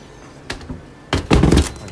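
A screen printing screen set down against a yellow tape alignment guide in a print shop, a light knock followed by a louder cluster of hollow thumps and knocks, close and loud.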